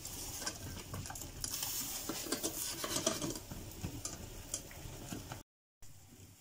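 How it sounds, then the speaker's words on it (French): A spoon scrapes the bottom of a saucepan while white wine deglazes the pan juices for a mushroom sauce, making soft, quiet, irregular scraping and sizzling that stops briefly near the end. "on va venir gratter dans le fond de la casserole, au fur et à mesure ça va fondre, pour venir déglacer tous les sucres"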